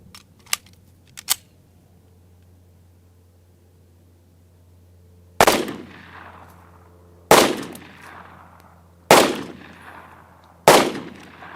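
Four loud, sharp gunshots from Federal 10mm 200gr HST rounds fired into a test block covered with four layers of denim, spaced a couple of seconds apart, each ringing out and decaying, after a few faint clicks.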